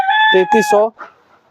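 A rooster on a poultry farm lets out one loud, close crow, a sharp harmonic call broken into a few rising and falling segments before trailing off.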